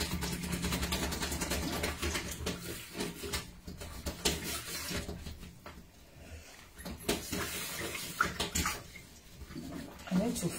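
Water rushes and gurgles steadily as it is flushed through a blocked dishwasher in a home kitchen, with continuous sloshing and splashing throughout and a voice speaking intermittently over it.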